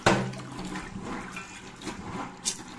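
Water splashes and runs steadily while soaked food is rinsed by hand, with a sharper splash at the start and another near the end.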